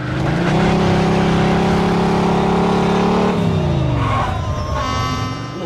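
A car driven along the sidewalk in the video game Mafia 2 roars close with a loud steady engine note that shifts pitch as it accelerates and changes gear.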